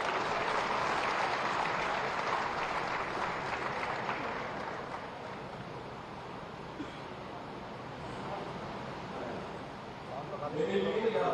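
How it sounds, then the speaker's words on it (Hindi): Applause at a statue unveiling ceremony in Meerut, a broad crowd clapping that is strongest at the start, fades to a softer, steadier patter, then swells slightly near the end. "जोरदार तालियों के साथ अभिनंदन वंदन स्वागत।"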